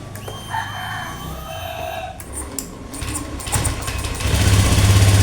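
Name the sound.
kick-starting a 2015 Honda Beat FI motorcycle engine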